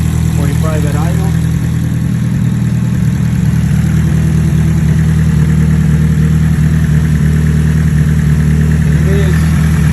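A Nissan S13's engine idles steadily and loudly up close, a constant low rumble throughout, with a voice talking over it.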